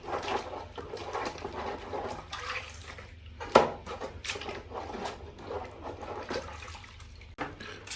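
Water runs and splashes over a computer motherboard being rinsed, a continuous trickling, spattering wash with occasional sharp knocks, close and fairly quiet.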